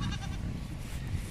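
Goats let out of a small enclosure into a green pasture bleat in overlapping, wavering calls, fairly close and continuous over a low rumbling background.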